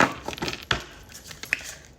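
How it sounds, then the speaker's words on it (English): Oracle cards being shuffled by hand, giving a string of close, light papery riffles and soft clicks spread over about two seconds, with no talking. "let's shuffle these one time."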